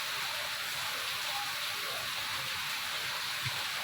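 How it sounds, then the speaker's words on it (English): Heavy rain pours steadily as a dense, constant hiss with no breaks or distinct drops, even in level throughout and with no voices over it. "It is raining a lot really."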